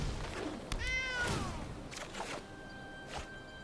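A cat meows once from a Stray Cat card in the MTG Arena digital card game. The short, rising and falling cry stands out clearly against quiet game sounds.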